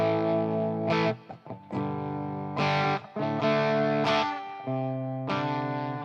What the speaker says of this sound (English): So that's what that sounds like with my clean tone, with nothing but a little touch of reverb.